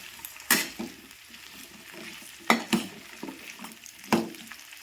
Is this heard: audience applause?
no